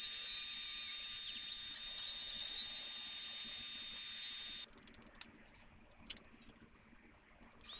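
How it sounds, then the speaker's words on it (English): Belt sander bevelling the edges of cedar boards gives a steady high whine for several seconds, then cuts off, leaving faint scattered knocks and ticks. "now I'm using that belt sander to just bevel those edges"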